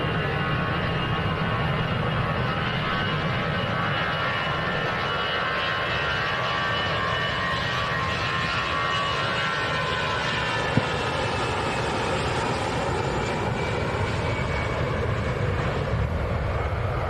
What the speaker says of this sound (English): That EasyJet on the way out to Milan.